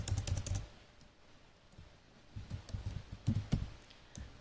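Typing on a computer keyboard while entering records into an SQL employee table: bursts of quick keystroke clicks near the start and again in the second half, separated by a quieter pause.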